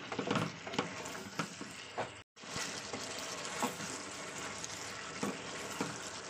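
Tomato pieces frying with spices in oil for a Bengali onion-kalia dish, a continuous close sizzle broken by periodic spoon scrapes against the pan, with one brief silent gap early on.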